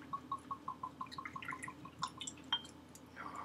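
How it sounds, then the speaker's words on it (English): Scotch whisky poured from a bottle into a glass, a quiet run of rhythmic glugs and drips at close range, followed by a brief splash, with no talk. "Love that glug glug glug sound."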